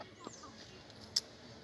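Red hens and a rooster of the índio breed cluck on a farm, a few faint, brief clucks and one sharp higher call over a quiet outdoor background.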